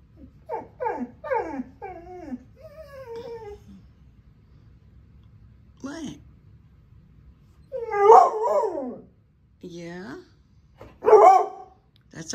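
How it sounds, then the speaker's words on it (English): Dog vocalizing in a room, a series of close, quick yips and warbling howl-like whines followed by a few louder barks spaced out, with brief gaps between outbursts. "Yeah, that's a bark."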